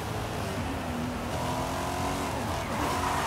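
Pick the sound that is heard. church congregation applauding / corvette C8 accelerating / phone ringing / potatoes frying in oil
corvette C8 accelerating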